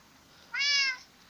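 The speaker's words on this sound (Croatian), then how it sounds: "Mačak!" A single short meow from a cat in Minecraft, clear and fairly loud, lasting under half a second against near silence.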